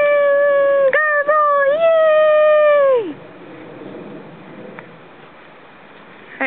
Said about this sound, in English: My golden retriever in a tree.